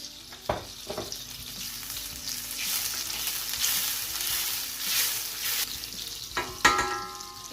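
Butter and sunflower or olive oil sizzle in a heated pan, a steady crackling hiss with a few sharper pops and utensil knocks near the start and end, moderately close and with no talking.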